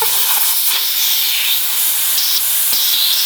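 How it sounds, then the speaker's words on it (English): Steady high hiss of air escaping through a hole on a Virutex SVN460 vacuum fastening system, continuous and fairly loud for a few seconds, with faint low rumble underneath. "you can hear the air going out right here"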